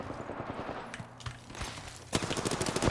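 Rapid bursts of automatic gunfire crackle in an Apex Legends match, some distant and some close, ending in a loud sustained volley of sharp regular shots.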